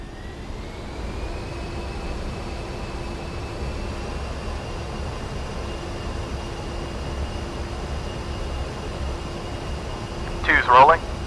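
Steady whine and roar of a jet engine at full throttle on a takeoff roll in DCS World, a continuous even drone with a rising tone, ending in a short burst of noise.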